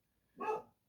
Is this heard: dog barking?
yes